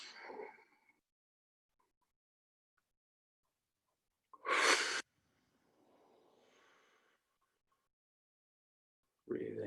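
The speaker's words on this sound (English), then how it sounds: "take 3 really nice deep breaths, breathing in through the nose and letting it out through the mouth" Slow, deep breathing for a mindfulness exercise: a soft inhale through the nose, then a louder breath let out through the mouth, separated by long quiet pauses, close and alone.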